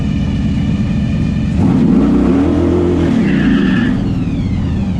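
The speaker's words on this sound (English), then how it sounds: "Racing a Tesla, first time out." A Tesla launches down a drag strip at a NASCAR track. A loud, close, continuous rushing roar swells as the car pulls away, and a rising whine rises above it, with no speech.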